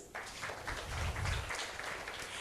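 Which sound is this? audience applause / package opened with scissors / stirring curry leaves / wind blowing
audience applause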